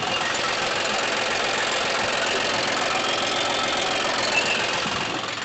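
A John Deere tractor's diesel engine runs steadily up close, a dense continuous rumble with rapid knocking and no breaks.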